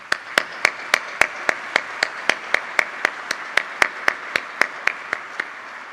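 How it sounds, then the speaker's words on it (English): A room full of people applauds award winners at a conference, shown as a steady run of about twenty sharp, evenly spaced claps that sound like one prominent clapper near the microphone over a soft crowd wash, with no talking. "Please join me in a round of applause for these great leaders."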